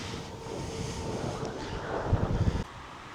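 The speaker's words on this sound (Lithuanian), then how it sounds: "Gero vėjo, bet vėjas dažniausiai į mus." Steady broadband wind rush buffets the microphone while cycling into a headwind on a sunny road toward Elbląg, Poland, a continuous roar with a brief louder gust before it drops off near the end.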